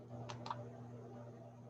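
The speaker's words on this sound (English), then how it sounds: "I right-clicked on it and deleted it that way" A computer mouse gives two quick, close clicks while an item is deleted, over a steady low electrical hum, with no voices.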